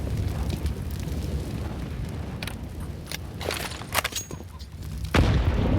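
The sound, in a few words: HE grenade exploding in Counter-Strike video game, Inferno map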